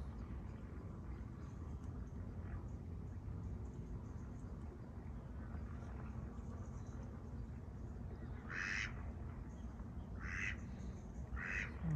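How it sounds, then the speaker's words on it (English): A duck quacks beside a boat on the river at Womack Staithe, Norfolk, giving three short, faint quacks near the end over a steady low outdoor hum. "Got a duck talking to me."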